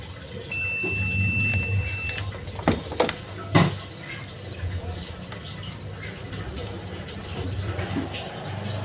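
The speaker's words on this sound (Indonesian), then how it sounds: "Saya gunakan buzzer ya biar terdengar." A thin, steady electronic buzzer tone from an electrical tester checking starter wiring on a Honda Vario 150 scooter that won't start sounds for under two seconds at the start, followed by clicks, handling noises and quiet background sounds.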